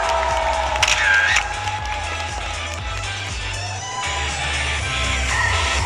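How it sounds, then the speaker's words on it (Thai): A crowd at a stage game event with the entertainer Ling Ling applauds and cheers the lucky winner: a continuous, moderately loud wash of clapping and crowd noise with faint tonal music or squeals on top, holding steady throughout. "เพราะฉะนั้นตอนนี้มีคนเดียวเท่านั้นที่เป็นผู้ชนะครับขอเสียงปรบมือครับ"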